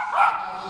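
A dog gives a single short bark or yip during an obedience training session, close and brief, amid a faint outdoor background.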